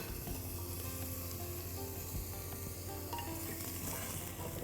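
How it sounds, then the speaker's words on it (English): Mutton pieces sizzle in a pan with browned onions, a steady close frying hiss with occasional spoon stirs throughout, no talking. "Onion has become quite brown now, so I'm now going to add the mutton pieces to it."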